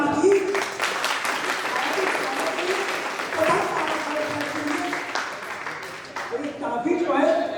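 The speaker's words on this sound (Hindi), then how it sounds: "श्रोताओं ताली बजाओ।" At a poetry gathering, an audience claps steadily in a dense, sustained round of applause filling the hall, with voices murmuring beneath the clapping.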